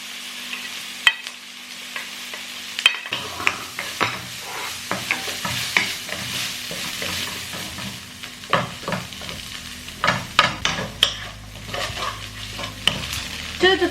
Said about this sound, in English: Five minutes pass, I add the onion and the tofu.